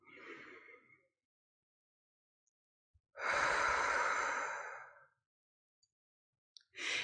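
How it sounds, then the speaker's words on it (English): A person breathing during a guided morning breathing exercise: a soft inhale, a pause, then a long, loud, sighing exhale lasting about two seconds, close and clear with no talking, and another breath beginning at the end. "take that big, slow, deep breath in and exhale out slowly"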